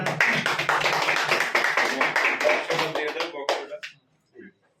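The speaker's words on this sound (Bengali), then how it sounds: "হাততালি।" A crowd at a community gathering claps to mark a returned lost phone being handed over. The applause is dense and sustained for nearly four seconds, then thins to a few last claps and stops.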